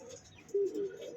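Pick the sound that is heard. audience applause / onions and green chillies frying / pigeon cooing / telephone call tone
pigeon cooing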